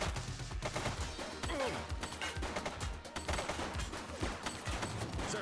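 A suspect fires on police in The Precinct game, rapid continuous gunfire with dense overlapping shots across the whole stretch, sustained and moderately distant-sounding, with no speech over it.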